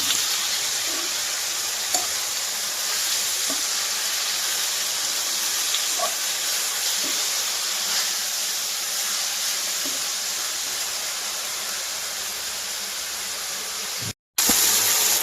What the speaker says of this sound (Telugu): ఒకసారి మొత్తం ఇలా కలిపేసుకున్నాం